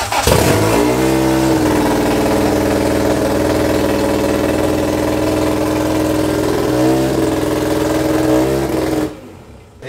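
Car engine cranks and catches, then holds a loud, steady rumbling rev close by for several seconds, with a couple of brief dips in pitch, before shutting off abruptly near the end.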